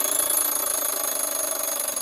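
A Soviet mechanical alarm clock rings its bell nonstop, a loud, steady metallic ringing that fills the whole stretch with a fast rattling pulse.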